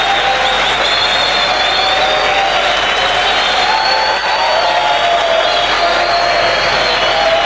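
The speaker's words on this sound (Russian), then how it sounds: "Ваши аплодисменты." A crowd applauds performers as they are called onto a stage: loud, sustained clapping mixed with some cheering and whoops, with a faint tonal background running under it the whole time.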